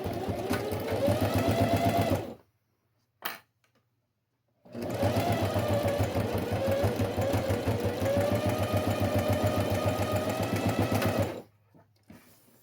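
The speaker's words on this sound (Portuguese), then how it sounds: "Então, vamos costurar aqui." A sewing machine stitches a fabric box pouch, its fast, steady mechanical hum running close and loud for two long bursts, stopping in a silent pause between them and again at the end.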